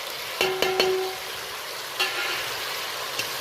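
Ground spices fry in oil with a splash of hot water in a pan for an egg and dal dish. There is a soft, steady sizzle, with a few sharp clinks of a stirring spoon against the pan near the start.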